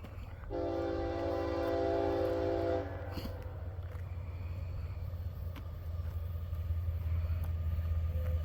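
A CSX freight train locomotive approaches around a curve, sounding a loud sustained multi-tone horn for a couple of seconds over a constant low engine rumble that grows heavier as it draws nearer.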